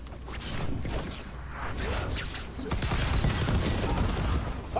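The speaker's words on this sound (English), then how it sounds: "Fireworks!" Fireworks bursting in Dragon Age: The Veilguard, a dense, continuous crackle of pops and booms with a slight swell toward the end, holding steady throughout.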